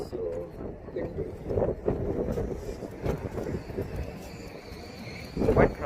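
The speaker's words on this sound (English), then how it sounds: "It is so windy." Strong gusting wind buffets the microphone on the Walkway over the Hudson River pedestrian bridge in Poughkeepsie, New York, a loud, rough rumble that rises and falls while people talk nearby.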